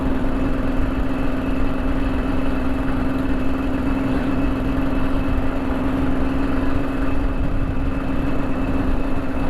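A 2002 Suzuki A100 Econos, a 100 cc two-stroke motorcycle in full original condition, idles steadily with a constant low drone and a faint high whine, loud and close with no talk over it.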